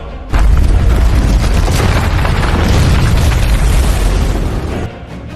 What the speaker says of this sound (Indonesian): Belum sempat mereka keluar, ledakan besar terjadi.